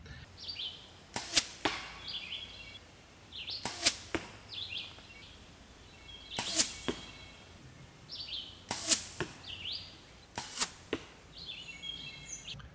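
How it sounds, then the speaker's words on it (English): Arrows fletched with FOB vanes and with four-inch real feather fletching whoosh past a nearby point one after another, about ten sharp swishes in pairs with short gaps between them, with no voices over them. "listening to the arrows fly by the camera, I could tell a difference in the sound"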